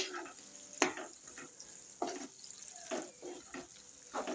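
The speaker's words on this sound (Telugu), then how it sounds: "టమాటా అయితే వేసుకున్నాం కదా, మూత తీసుకొని కలుపుకుందాం ఒకసారి" Mutton tripe fry stirred in a pan after tomato is added: soft, quiet sizzling under a few scraping stirs of a spoon at irregular intervals, close by.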